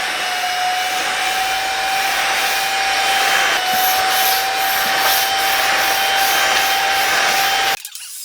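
An LG CordZero A9 cordless stick vacuum with a brush attachment cleans dust from living-room blinds, giving a loud, steady high-pitched whine with faint brushing against the slats before the motor suddenly cuts out near the end.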